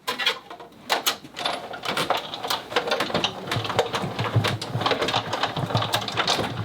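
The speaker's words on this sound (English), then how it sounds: "So I just die cut this out" A die cutting machine runs a paper strip, backed with typing paper and held by washi tape, through its rollers. It gives a steady, close mechanical whirring and grinding with a rapid rhythmic clatter throughout.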